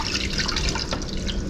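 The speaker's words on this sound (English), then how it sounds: "I usually set it in the oven and then pour the water in" Water pouring steadily into a pan set in an oven for a cheesecake water bath, a continuous close splashing rush with no one speaking.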